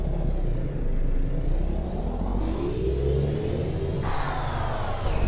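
Kenworth W900 truck engine in American Truck Simulator, a deep rumbling diesel that revs and climbs in pitch as it pulls away, close and steady with no talk over it.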